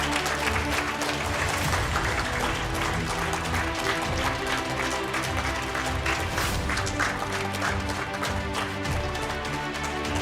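An audience at an India-Japan intercollegiate competition prize distribution applauds the winners, sustained dense clapping with a low hum beneath, steady and fairly loud from start to finish.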